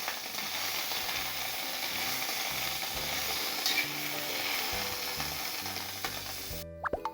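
Unpeeled garlic cloves dry-roasting in a pan, a continuous rattling, clattering scrape as they are stirred and tossed, steady and fairly close, with a brief abrupt break near the end and no talking.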